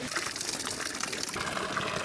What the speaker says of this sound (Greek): εδώ βλέπουμε μια βρύση να τρέχει